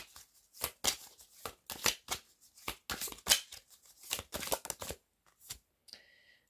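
Tarot cards being drawn and handled during a reading: many close, sharp papery flicks and slaps in an uneven rhythm, ending with a brief faint tonal chime.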